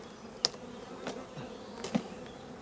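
Honeybees buzzing around a hive frame during a summer honey harvest, faint insect hum broken by a few brief closer buzzes as bees fly past.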